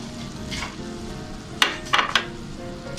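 Tuna dropping into a hot pan of rice sets off a soft, steady sizzle, broken by several sharp clatters and scrapes of a utensil against the pan midway through, with no voice.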